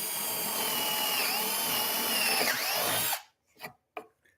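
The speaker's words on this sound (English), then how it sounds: "Drill a hole so you have access." A power drill whirs steadily as it bores into a wooden shop-made pumpkin for about three seconds, then stops, followed by a couple of soft knocks.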